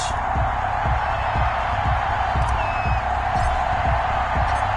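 Steady roar of a stadium crowd in an EA Sports football video game before a Colts–Cardinals matchup, a continuous dense wash of cheering with a rhythmic low thumping pulse underneath, loud and unbroken throughout.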